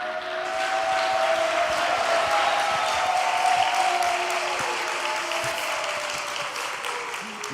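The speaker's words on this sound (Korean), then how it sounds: "단상에 모실 때 힘찬 박수 부탁드리겠습니다" Audience applause follows the call to welcome a speaker to the podium at a Korean religious ceremony, a steady dense clapping that fills the room for several seconds. A sustained tone runs beneath it and no one talks.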